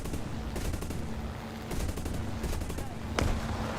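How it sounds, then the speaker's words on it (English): Gunfire and explosions from a Yak-1B fighter in War Thunder, with a steady engine drone and repeated bursts of cannon and machine-gun fire, ending in a louder blast near the end. "Another explosion."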